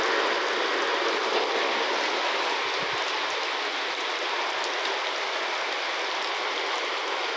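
Steady morning rain falls across the countryside in the backcountry, a continuous broadband hiss of drops with no voices, holding an even level throughout.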